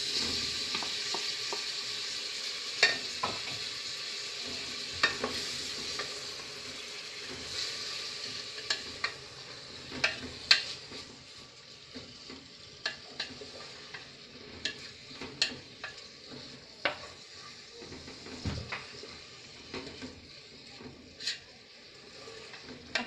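Sausage, onion, garlic and tomato sauté in oil in a pot, giving a steady close sizzle broken by frequent sharp clicks and scrapes of stirring, with no talking.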